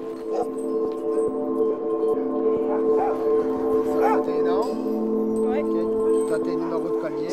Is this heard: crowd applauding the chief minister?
no